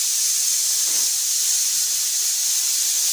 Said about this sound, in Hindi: कुकर की सीटी खोलते हैं